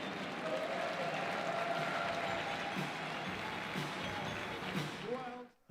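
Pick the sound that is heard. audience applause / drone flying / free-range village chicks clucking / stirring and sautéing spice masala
audience applause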